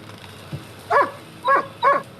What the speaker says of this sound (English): He's barking at the shed.